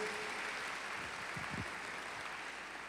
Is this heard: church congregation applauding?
yes